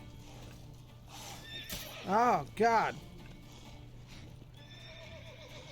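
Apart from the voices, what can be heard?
horse neighing and hooves in video game The Witcher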